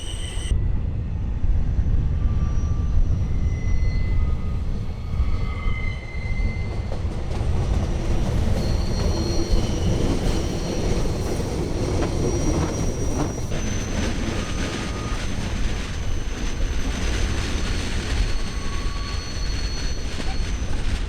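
The Glacier Express train rumbles steadily along Swiss mountain rails through galleries and tunnels near Oberalp Pass, with faint high wheel squeals drifting over the constant low roar throughout.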